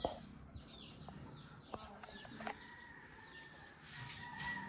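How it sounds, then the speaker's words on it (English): Small birds chirp faintly outdoors at a tiny home build site in the Philippines, with scattered short calls and a distant rooster-like call over steady background hiss, no talking. "Look at the two birds hanging out."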